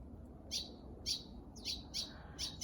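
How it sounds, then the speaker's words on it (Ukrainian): Small birds chirp in short, bright bursts, about five quick calls spaced evenly, over a low steady background hum. "пташечки, як завжди, нам"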